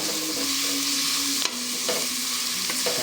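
Onions frying red in oil for chicken biryani, a loud steady sizzle with a few sharp clinks and scrapes of a spoon stirring the pan.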